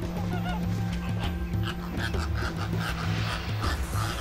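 A flock of lesser flamingos at Kenya's Lake Bogoria gives repeated honking, goose-like calls, overlapping in a steady chorus against a constant background.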